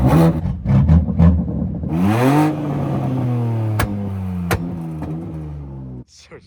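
A BMW M3 with a broken exhaust downpipe revs loudly and raspily, its pitch climbing and falling in several sweeps before cutting off abruptly near the end.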